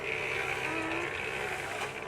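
A tractor engine running on a farm, a steady loud drone with a constant pitch throughout, close by and with no talk over it.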